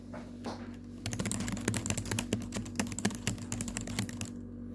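Quick, close keystrokes on a computer keyboard at a bank customer-service desk while a savings account opening form is entered, brisk irregular tapping over a low steady hum.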